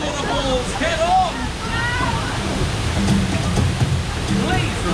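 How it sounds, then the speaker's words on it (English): Water on the Congo River Rapids ride at Alton Towers pours and rushes in a loud, continuous wash, with crowd voices and faint shouts mixed in underneath. "Time to face these waterfalls head on."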